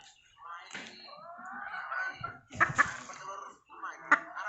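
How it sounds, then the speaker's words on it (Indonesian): Ayam Arab laying hen at a livestock setting in Aceh, giving repeated agitated clucks and squawks in uneven bursts, fairly close, with people talking around it. "Ayam Arab telur"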